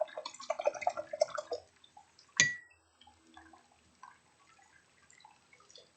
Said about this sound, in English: Wash your brush off.